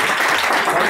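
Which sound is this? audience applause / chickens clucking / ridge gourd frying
audience applause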